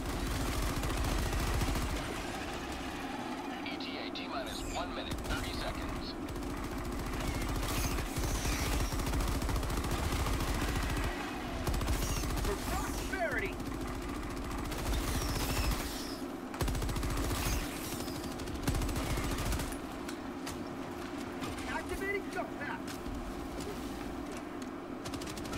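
Weapons fire in Helldivers 2 during a bug fight, long stretches of rapid automatic shooting with intermittent bursts and a continuous mechanical drone underneath, moderately loud throughout.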